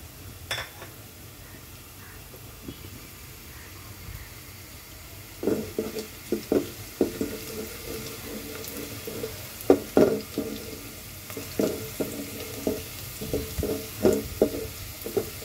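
Chopped onion, garlic and panch phoron frying in oil in a pot on the stove make a soft background sizzle, joined by a run of sharp, close clacks from a spoon stirring against the pot.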